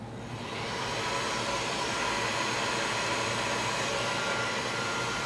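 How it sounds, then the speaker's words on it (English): A blow dryer runs steadily on a spot of freshly poured acrylic paint from a Dutch pour, its close, even airy roar continuing for several seconds without talk. "Maybe I'll use the blow dryer on that one spot."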